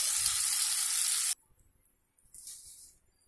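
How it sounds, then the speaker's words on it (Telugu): Fish pieces fry in a pan with a dense, loud sizzle that cuts off abruptly, leaving near silence with a brief faint hiss afterward. "చేప ముక్కలు ఇలా వేయించుకున్నాం."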